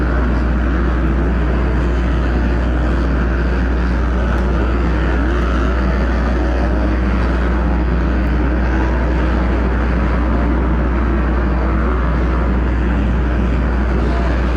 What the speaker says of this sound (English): So Braden Hintonbinger, there he is on the KET, or the Husqvarna, the two-stroke